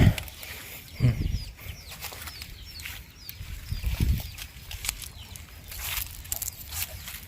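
Chickens and ducks at a farm field hut in the evening give scattered soft clucks and chirps, with occasional rustling and thumps nearby in an otherwise quiet outdoor setting.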